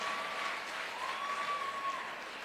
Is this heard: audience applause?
yes